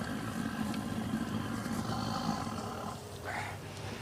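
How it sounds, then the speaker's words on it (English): A gas cooking stove burner in a Calcutta kitchen roars loudly and continuously, a close, jet-like rushing flame noise that dips slightly near the end. "These stoves are like jet engines."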